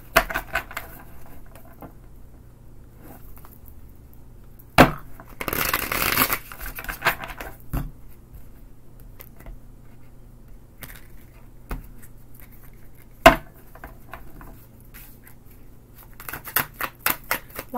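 Tarot cards are shuffled in several brief riffling bursts separated by pauses, with a longer dense flurry of card slaps, close and crisp against a quiet room.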